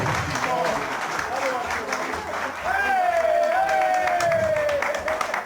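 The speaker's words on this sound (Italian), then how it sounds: "Facciamo un applauso alla piccola Desiree, tutti quanti insieme, bello forte, vai! Applausi!" Guests at a christening party in a restaurant give a sustained round of applause, loud and steady throughout, while a voice speaks and sings over the clapping.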